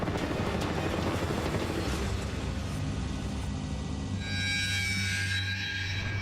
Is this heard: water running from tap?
no